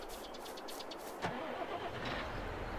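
A John Deere tractor engine in the Farm Sim video game cranks and catches about a second in, then settles into a steady mid-pitched idle, heard close and alone.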